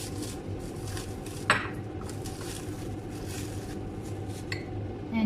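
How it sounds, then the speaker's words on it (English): Three egg whites go into a mixing bowl for meringue with a faint wet plop and a brief clink of glass or metal against the bowl, set over a quiet, steady kitchen background. "Then I will put the eggs. In here are 3 egg whites."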